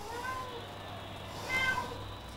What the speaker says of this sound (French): C'est une deuxième génération de chats du Bengale.